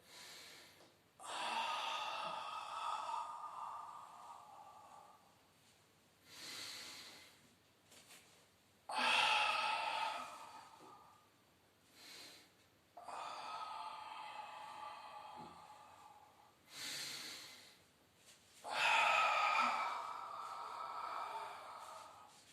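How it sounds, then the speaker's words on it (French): Forceful open-mouth exhalations during a Pilates exercise come as four long, breathy blows, each lasting a few seconds, with quieter inhalations between them, close and clear, and no talk. "Quand vous expirez fort avec la bouche ouverte, hein, faites de la buée."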